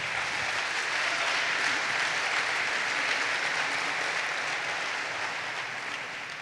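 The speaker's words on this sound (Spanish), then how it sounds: "Dele un fuerte aplauso a Dios por eso." Congregation applauding God during a church service; sustained dense clapping from many hands, even and continuous, tapering slightly at the end.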